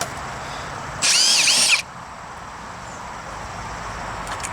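A power drill fitted with a Phillips number 2 bit runs in reverse to back a screw out of deck boards, one loud whirring burst just under a second long against quiet outdoor background.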